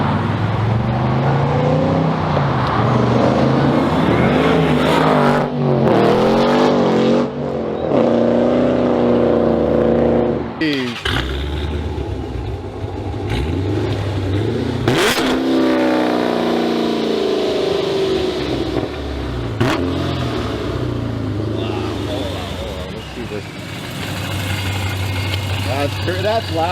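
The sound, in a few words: Dodge Challenger with ProCharger supercharger engine revving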